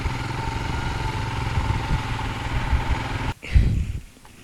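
A scooter engine idles close by with a steady, even drone, then breaks off near the end into a brief thump and quieter rumble.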